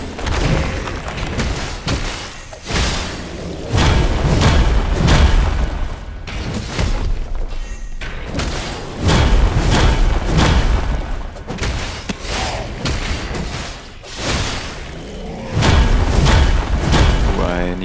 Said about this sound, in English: Let's try to get some heavy attacks in.